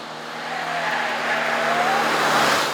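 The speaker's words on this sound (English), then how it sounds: "Now you will hear a bit of tire squeal, but that's the fun of it." A 2011 Suzuki Swift squeals its tires while cornering hard, a thin rising screech running over steady engine and road noise for a couple of seconds.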